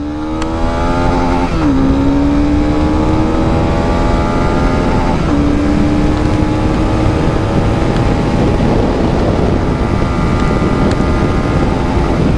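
A Honda CB300R 300cc motorcycle engine revs up hard, its pitch climbing steadily through several gear shifts, loud and close with a steady roar throughout.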